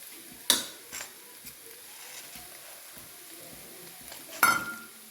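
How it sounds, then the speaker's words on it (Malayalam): Garam masala powder is stirred into onions and chillies frying in a pan, a faint low sizzle punctuated by a few scraping clinks of the spoon against the pan, two of them sharper and louder. "ഗരം മസാലപ്പൊടി ഒന്ന് ഇളക്കി"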